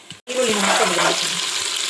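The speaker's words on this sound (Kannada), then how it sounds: "ಇವಾಗ ನೋಡಿ ಚೆನ್ನಾಗಿ ಫ್ರೈ ಆಗ್ತಾ ಇದೆ." Onions fry in a pan with cinnamon, cloves, cashews and raisins, a close, steady sizzle that starts abruptly after a short knock and continues at an even level.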